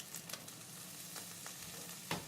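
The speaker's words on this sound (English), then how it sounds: "a little bit of olive oil, a little bit of margarine, and I'll grab me the tablespoon and get me a scoop out of here" Margarine and olive oil frying in a pan for pork fried rice give a steady, fairly faint sizzle, with a few scraping stirs of a utensil against the pan.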